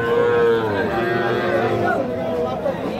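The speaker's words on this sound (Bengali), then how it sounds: "এই যে এটা কিন্তু ষাঁড় বাছুর দর্শক" A bull calf at a cattle market gives a long, loud moo up close, with crowd chatter and voices of people talking around it.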